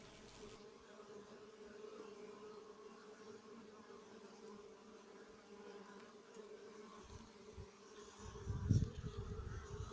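Honeybees humming inside a hive, recorded from above the frames: a steady low drone throughout, with a brief louder flare of buzzing near the end and no voices.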